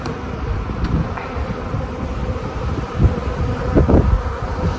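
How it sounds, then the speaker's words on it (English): A dense, loud swarm of honey bees drones continuously as they are shaken off hive frames in a colony with a drone-laying queen or laying workers, with a few thumps and swells of buzzing. "I'm going to take these couple of frames, shake most of the bees off of them."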